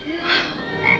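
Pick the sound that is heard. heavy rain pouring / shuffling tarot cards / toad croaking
toad croaking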